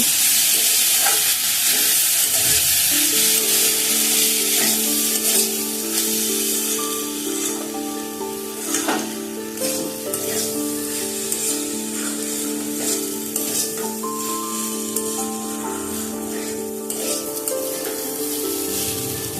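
Broken wheat stir-fried with vegetables in a pan for a Bengali dalia pulao, a loud continuous sizzle with scraping stirs that eases slightly as it goes on.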